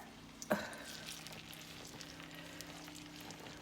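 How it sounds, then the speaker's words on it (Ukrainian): Lviv-style potato pancakes (deruny) fry in oil in a small pan, with a sudden sizzle as batter meets the hot oil, then a steady, quiet crackle. "взяли малесеньку сковороду, налили олії і починаємо робити драники по-львівськи"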